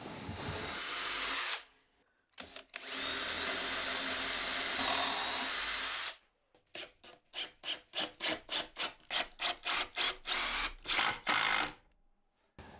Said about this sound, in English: I'm going to draw some pilot holes with a countersinking bit and then get the screws put into place.